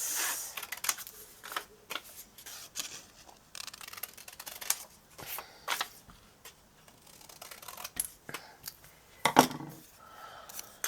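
Scissors snip a strip of paper for a journal in a series of irregular, crisp close cuts with short pauses and paper rustles between them.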